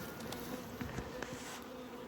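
Honeybees from a package buzz steadily nearby, a soft continuous hum with a few brief clicks and knocks over it.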